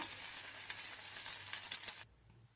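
Tomato dosa batter sizzles on a hot pan with a steady, bright, crackling hiss and faint scraping, fairly quiet and close, until the sizzle cuts away sharply near the end.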